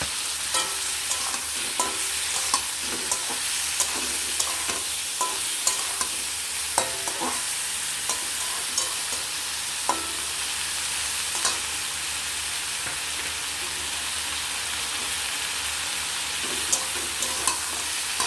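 Fried potato and eggplant stir-fried with turmeric in a pan, a steady sizzle with repeated scraping and clinking of the spatula, close and continuous.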